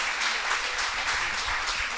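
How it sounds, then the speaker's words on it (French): A conference audience applauds the speaker Andreas after a talk on leaving nuclear power, a steady, moderately distant wash of clapping that carries on without pause. "je crois qu'on peut remercier et applaudir Andreas"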